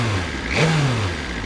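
A 2023 BMW S1000 RR motorcycle engine briefly revs up to about 4000 rpm from a low idle, one short rising blip that quickly settles, fairly close and loud.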